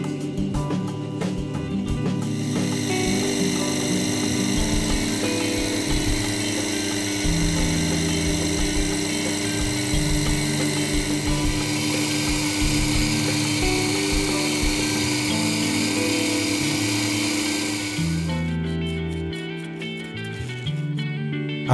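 Lathe running steadily while a clock bezel is polished with oilstone paste on sharpened pegwood: a loud continuous whirring hum with a high whine that holds for most of the stretch, then changes character near the end.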